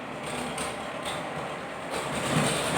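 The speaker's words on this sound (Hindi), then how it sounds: "यहाँ पे ट्रैक्टर बहुत सारे चल रहे हैं तो थोड़ा सा डिस्टरबेंस है इसमें" Several farm tractors running nearby give a steady, continuous engine drone with a broad mechanical rumble, holding at a constant level throughout with no speech.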